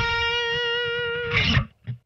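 A sustained, buzzy bass pinched harmonic through a distortion pedal built into a Zoom B1-4 rings with a bright harmonic overtone, then breaks into a noisy burst and cuts off, followed by a brief thud.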